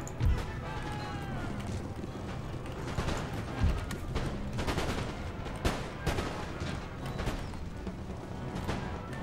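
Musket volleys crackle at very close range in an Empire: Total War battle as line troops fire on a unit of light dragoons, with repeated sharp shots and ragged fusillades over a dense, continuous din of battle.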